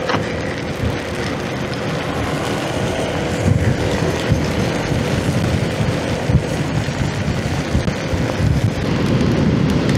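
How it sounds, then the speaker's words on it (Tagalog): Heavy rain pours steadily during a solo motorcycle ride through a storm on the way to overnight camping, with a constant dense wash of rain and wind noise that holds loud and even throughout, no talking. "lumakas na po si ulan"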